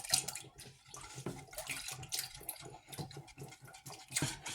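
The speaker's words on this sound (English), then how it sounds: "we're going to start adding the almond milk" Almond milk poured into a keto eggnog mixture, a soft, quiet, continuous liquid trickle and splash with no talking.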